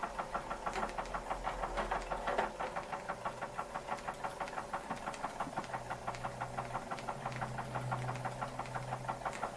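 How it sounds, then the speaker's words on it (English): A Marklin model steam engine with generator and burner runs steadily, its quick, even mechanical chuffing beating in a rapid regular rhythm, close and moderately loud, with a low hum underneath. "What a fantastic engine!"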